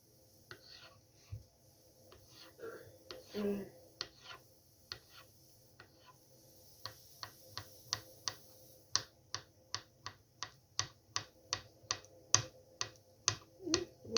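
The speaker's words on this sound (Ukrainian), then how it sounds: "Такими тоненькими кубиками буду кришити." A knife dices potatoes into small cubes on a cutting board while making crab Olivier salad, giving a run of sharp, evenly spaced chops that turns into a steady rhythmic series in the second half.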